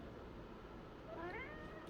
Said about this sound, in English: my kitty's talking to me like, hey, I'm dying here. Are you going to feed me?